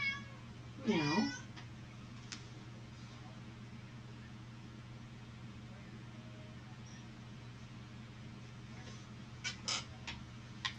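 A house cat gives a single clear meow near the start, followed by quiet room tone and a few faint later sounds, heard close and indoors at low level.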